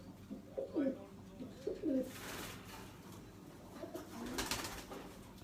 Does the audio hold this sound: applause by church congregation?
no